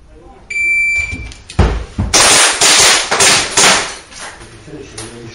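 At a practical pistol competition, a shooting timer beeps, then a rapid string of loud, sharp pistol shots cracks out about every half second, ringing over a few voices nearby.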